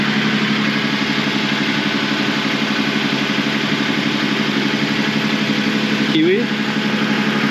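A small sailboat's engine runs while motor sailing the last miles into Napier, New Zealand, a steady even drone throughout, with a brief spoken word near the end.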